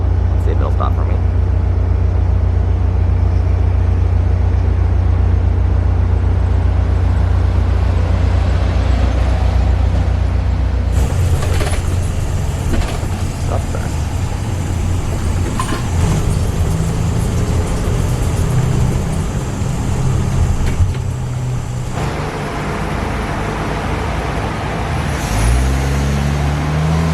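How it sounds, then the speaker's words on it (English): A free double-decker bus pulls up with a deep, steady diesel rumble, then a hiss of air brakes and a change in engine tone as it slows and stops at a stop beside railway tracks. "here comes the bus"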